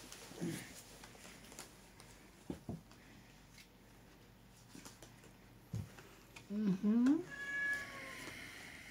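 A cat meows in a household during a tong-its card game, with a few short, rising cries near the end amid scattered background talk and clatter.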